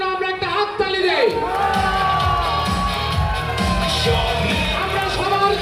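An outdoor stage gathering for a film artists' association election erupts in a crowd cheering, with loud whoops and shouts that carry steadily, mixed with voices talking.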